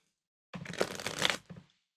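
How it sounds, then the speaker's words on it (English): A deck of tarot cards is shuffled by hand in a short, close, riffling burst of papery flutters and clicks that ends with a couple of soft taps, set in a quiet room. "an old man shuffling cards"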